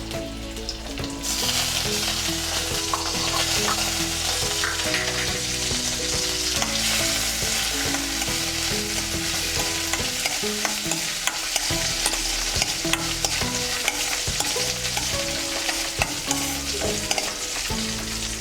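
Steady sizzling of cashews and raisins frying in hot ghee, with scraping stirs and bubbling crackles throughout, no voices.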